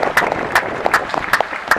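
A few people at a World Youth Day youth conference clap in scattered, separate claps with uneven rhythm, rather than a full crowd ovation.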